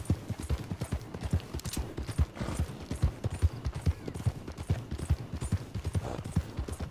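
A horse ridden at a trot in Red Dead Redemption 2 sends up a steady, rapid clip-clop of hooves, close and even, with faint creaks of tack and no talk.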